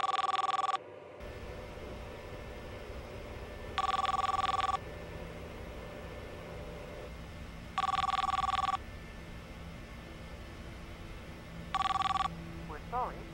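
A telephone ring repeats four times at steady intervals, each burst about a second long, heard through a call over a low background hum, with no talk.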